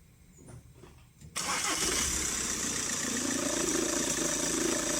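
A car engine with a worn serpentine belt tensioner cranks briefly, then catches and settles into a steady close idle carrying a hissing, whirring noise.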